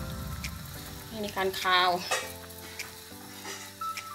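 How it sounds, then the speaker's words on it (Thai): Barracuda slipped into a pot of boiling water for a sour Thai soup with madan leaves, giving a short, close hissing, bubbling surge over the rolling boil while someone talks over it. "น้ำเดือดแล้วนะจ๊ะหย่อนปลาลงไปเลยค่ะ"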